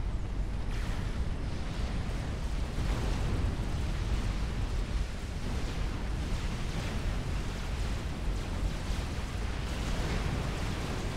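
Continuous rumbling explosions from battles in the real-time strategy game Supreme Commander, a dense, steady roar of blasts layered over one another without pause.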